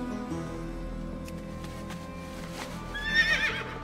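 In the World of Warcraft video game, a horse gives a clear whinny that rises to a loud peak near the end, over soft hoof clip-clop and game ambience.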